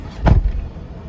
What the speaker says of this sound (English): let's go ahead and shut that door too.